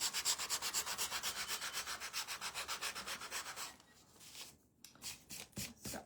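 Rhythmic, rapid rasping as two sandpaper surfaces rub back and forth, about four strokes per second, then slower, uneven scrubbing strokes.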